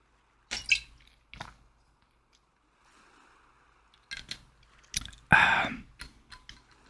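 Close, quiet gulps from a glass bottle of water, with scattered clicks and wet mouth sounds, a louder burst of swallowing near the end, and stretches of near silence between.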